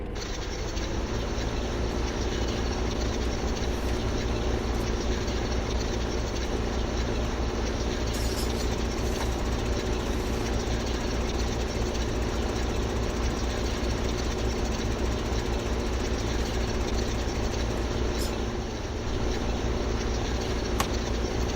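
In Farming Simulator 2015, a tractor engine drones steadily as it pulls a windrower, a constant low rumble that holds at an even level throughout with no voices.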